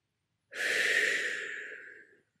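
A single long exhale through the mouth during a guided breathing exercise, a close, breathy rush of air lasting about two seconds that gradually fades, with no talking over it.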